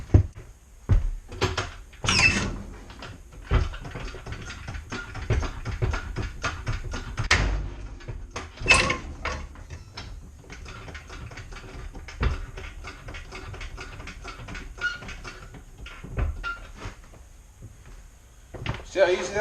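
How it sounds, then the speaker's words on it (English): A truck jack is lowered under the rusty, seized front axle of a 1977 Ford F-150, giving irregular nearby clunks, knocks and metallic clicks spread across the stretch, with occasional voices in the background. "I'll lower the jack, you guys can watch."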